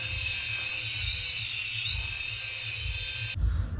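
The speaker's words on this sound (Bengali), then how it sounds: "একটা ছোট হেলিকপ্টার কিনে নিয়ে এসেছি। তো হেলিকপ্টারটা আজকে আমি ওড়াবো" A small toy helicopter flying close by, its high-pitched whirring motor steady and loud with a low fluttering rotor beat beneath, cutting off abruptly near the end.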